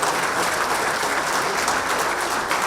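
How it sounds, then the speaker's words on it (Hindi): Loud, dense applause from an assembled audience at a Jharkhand administrative service association event with the chief minister present, a continuous wash of clapping lasting the whole few seconds. "जोरदार तालियों से इसका स्वागत किया जाए।"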